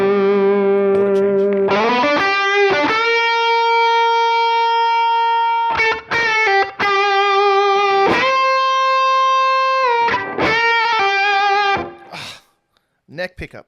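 Heavily distorted electric guitar through distortion pedals, on the neck pickup, playing sustained chords and notes with brief pauses, loud and saturated, ending with a few scratchy strums.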